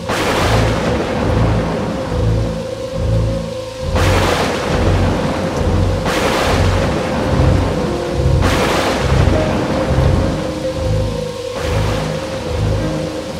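A cartoon night thunderstorm over a mango orchard during a kalbaishakhi storm: steady heavy rain roars throughout, and four or five loud thunder cracks break in at regular intervals, with no talking.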